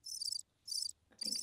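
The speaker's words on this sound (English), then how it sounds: "I think crickets." Crickets chirping as a sound effect: three bursts of high, rapid trilling separated by short pauses, clear and close, with a faint low tone under the last burst.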